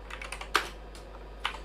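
Keys clatter on a computer keyboard during an MS-DOS setup on a 386DX40 build, with a quick burst of light taps, two sharper louder strokes and a pause, close and quiet, no talking.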